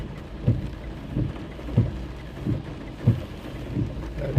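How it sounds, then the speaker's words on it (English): Heavy summer rain pours down in a steady hiss, broken by regular low thuds roughly every two-thirds of a second, with no voices. "It is just pouring down, as you can hear."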